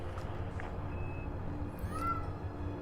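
A pet cat meows a few times, short and fairly faint, over a steady low background hum.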